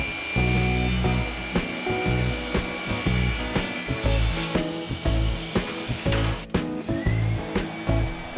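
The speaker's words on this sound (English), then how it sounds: "Now we need to rip down some 3/4 inch plywood for the sides," Saw ripping 3/4 inch plywood for cabinet sides, a loud steady whine of the blade through the wood, with brief dips as the cut goes on.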